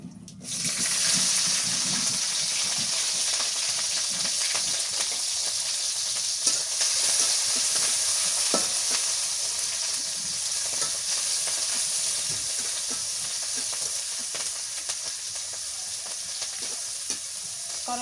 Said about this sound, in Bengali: পেঁয়াজ আর কাঁচামরিচ ফুটতেছে